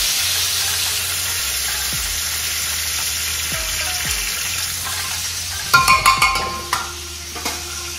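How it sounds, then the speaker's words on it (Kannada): Garlic and curry leaves fry in a hot pan for Kerala-style sambar, a steady close sizzle with a few soft stirring knocks, then a burst of louder crackling and scraping near the end. "ಬೆಳ್ಳುಳ್ಳಿಯನ್ನು ಬಿಸಿಯಾದ ನಂತರ ಕರಿಬೇವಿನ ಸೊಪ್ಪನ್ನು ಚೆನ್ನಾಗಿ ಸೇರಿಸಿಕೊಳ್ಳಿ."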